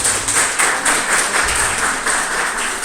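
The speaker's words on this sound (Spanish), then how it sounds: "les pido un aplauso para ella" An audience applauds a doctor at a medical cannabis workshop, a steady dense patter of many hands clapping throughout, moderately loud and without talk.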